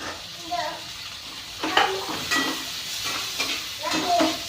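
Onion frying in a pan with sprouted moth beans (matki) gives a soft sizzle under scraping stirring strokes and light clinks of a utensil against the pan, with faint voices in the background.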